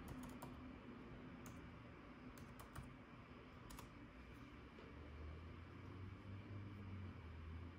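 Quiet keystrokes tap out a password on a 2019 16-inch MacBook Pro keyboard, with scattered soft clicks over a low steady hum.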